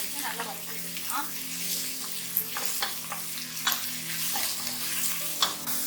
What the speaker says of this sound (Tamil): வெங்காயம் சேர்த்து நல்லா பொன்னிறமாக ஆகிற வரைக்கும் நல்லா வதக்கி விட்டுக்கலாம்